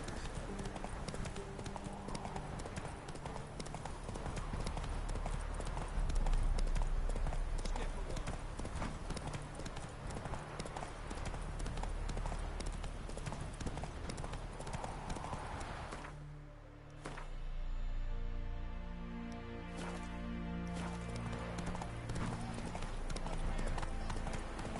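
Hooves of Roach, Geralt's horse in The Witcher 3, clip-clop steadily through most of the stretch under continuous game music and a talking voice, with a brief lull midway.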